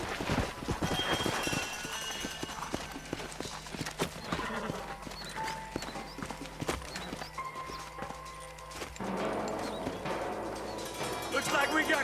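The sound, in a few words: horse hooves in the video game Red Dead Redemption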